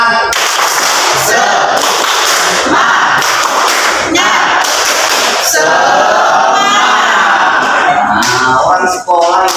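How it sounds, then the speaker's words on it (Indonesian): A school class claps and chants a rhythmic spirit clap together, with sharp bursts of claps and shouted voices from a crowd of children in a classroom, loud and close throughout. "Kita tepuk dulu, tepuk semangat bersama-sama."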